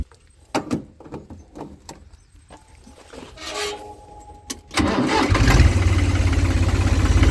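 A New Holland Ford 3630 tractor is started after some clicks and key sounds, the starter cranking briefly before the diesel engine catches and settles into a loud, steady close idle.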